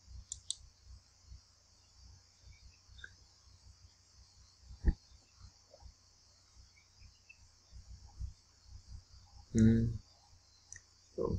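A computer mouse clicking on a desk, scattered soft clicks spread across the stretch with one sharper click, close and quiet, while a person's brief speech sounds near the end over faint background hiss.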